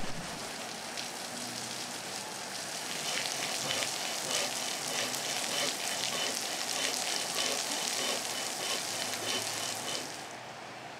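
Rain falling steadily on a roofed two-storey masonry construction site in Thailand, a dense, even hiss of drops that swells slightly midway and fades near the end, with no voices.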